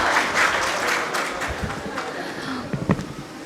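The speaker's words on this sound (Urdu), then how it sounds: "بہت ساری تالیاں" A burst of applause from an audience at an Urdu literature festival, dense clapping that gradually thins out and fades over a few seconds.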